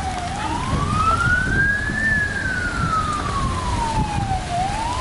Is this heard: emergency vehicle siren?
yes